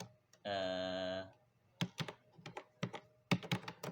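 C code typed on a computer keyboard makes a quiet run of close, irregular key clicks, preceded by a brief steady electronic tone.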